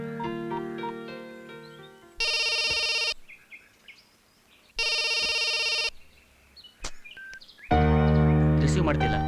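A telephone rings in two loud, sustained electronic bursts with a pause between them, standing out clearly against music and other background sound in a Kannada film scene.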